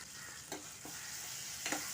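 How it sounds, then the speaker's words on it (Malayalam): Chopped ripe tomato sautéing in oil over a medium flame, a faint steady sizzle broken by a few brief stirring clinks, quiet and without talk. "അപ്പോൾ തക്കാളി കൂടി ചേർത്ത് നമ്മളിത് മീഡിയം ഫ്ലെയിമിലിട്ട് നല്ലതുപോലെ ഒന്ന് വഴന്ന് ശരിക്കും ആ എണ്ണയിലൊന്ന് വഴന്ന് വരണം."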